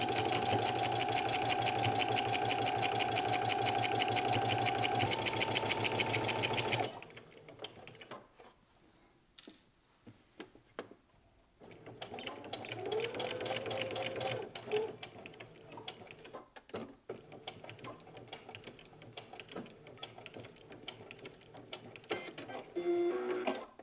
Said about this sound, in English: I'm just going to sew right along the previous stitching that I inserted for the stabilizer